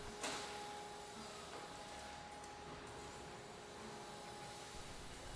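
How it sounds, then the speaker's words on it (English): A large furniture factory machine applying edging strips runs with a steady mechanical hum and faint whirring tone, accompanied by a brief clack near the start, heard at a moderate distance with no talk. "This one is used to apply edging strips to some of the furniture units."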